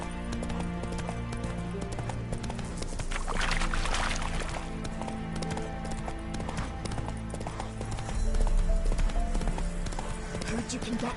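Hooves of the horse Roach clatter in a quick, steady clip-clop in The Witcher 3, mixed with game music and ambient sound, while voices speak over it.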